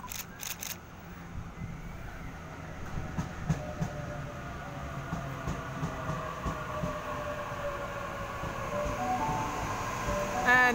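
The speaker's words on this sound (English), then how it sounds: "Set B2, brand new Waratah, now departing from platform number." Brand new Sydney Waratah B set train pulling out of a station platform, a steady rising rumble of motors and wheels growing louder toward the end, with faint rail clacks and occasional camera clicks.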